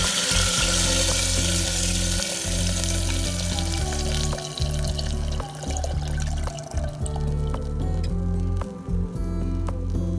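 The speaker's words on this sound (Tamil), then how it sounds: "மில்க் நல்லா பாயில் ஆகட்டும்" Milk bubbling and simmering in a pan with almonds for lotus seed (makhana) payasam, a steady dense hiss with soft rhythmic bubbling throughout, close and fairly loud with no talk.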